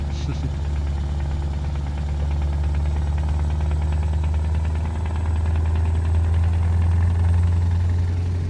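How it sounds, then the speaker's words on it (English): Scania Longline truck engine in Euro Truck Simulator 2, a steady deep low rumble that builds slightly as the throttle opens, loud and continuous throughout with faint voices beneath. "when you put your foot down, you hear the engine properly going to work"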